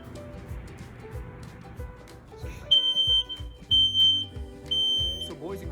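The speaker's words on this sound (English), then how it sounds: "test your smoke alarms and make sure there is one on every floor" A smoke alarm, set off with its test button, sounds a series of loud, piercing high-pitched beeps in short bursts, nearby, after a stretch of background music and voices.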